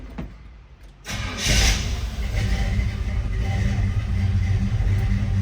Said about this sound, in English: Let's go ahead and fire this truck up.